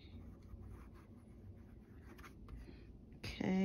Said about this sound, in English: Little feedback, nice and smooth though when it's writing.